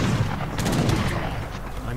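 Cherokee cannons firing in Age of Empires 3: a cluster of dull booming shots in quick succession amid battle noise, with faint talk underneath.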